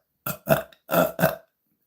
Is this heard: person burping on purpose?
yes